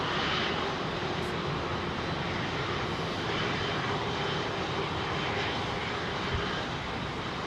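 A jet airliner departing London Heathrow runway 27R, a loud, sustained broadband engine roar heard close up, steady and unbroken.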